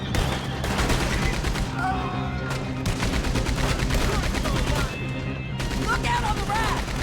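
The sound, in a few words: gunfire in video game Red Dead Redemption 2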